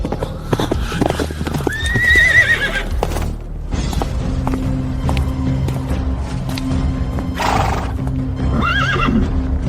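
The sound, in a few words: horse neighing and hooves clip-clopping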